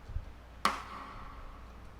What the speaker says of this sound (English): because the snare rim sounds like this